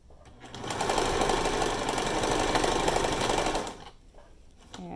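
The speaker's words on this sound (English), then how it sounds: "I'm going to stitch all the way down this length" A sewing machine runs steadily for about three seconds, back tacking and then stitching a T-shirt strap onto a fabric mask with a 1/4 inch seam allowance, before stopping.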